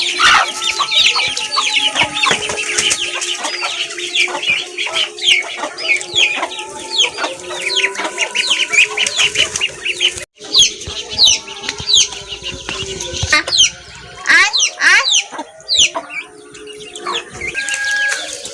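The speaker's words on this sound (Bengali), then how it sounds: "কতগুলো মুরগি" A flock of chickens clucking nearby in a village setting in the Sundarbans area, many overlapping clucks and calls with occasional wing flapping, loud and busy throughout with a brief pause midway.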